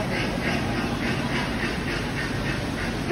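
Duck quacking at the Shanghai Ocean Aquarium, a run of rhythmic repeated quacks over a steady dense background hiss.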